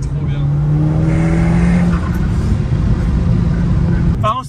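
An Audi S5 with 356 horsepower revs while driving, giving a loud, steady engine drone with a rising harmonic that then levels off, heard from inside the car under continuous road noise and a brief voice.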